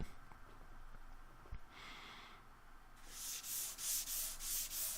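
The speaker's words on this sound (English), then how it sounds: "it was time to start sanding everything" Rhythmic hand sanding of a wooden cabinet, strokes rasping back and forth in a steady repeating pattern, growing louder and closer after a quiet start.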